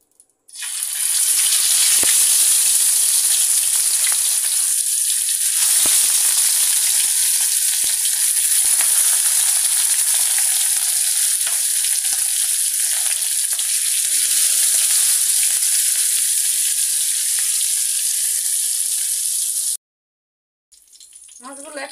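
Seven pieces of rohu fish, rubbed with salt and turmeric, fry in oil in a silver kadai: a loud, continuous hissing sizzle that holds steady for about twenty seconds, then stops abruptly.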